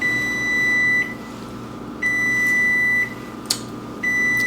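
An oven timer beeps when a batch of cookies is done: a string of steady electronic tones, each about a second long with gaps about as long, clear over a low kitchen hum.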